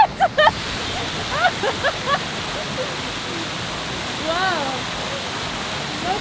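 Water fountain show at Anda Circle in Manila, a steady broadband rush of spraying and falling water throughout, with people talking and exclaiming over it.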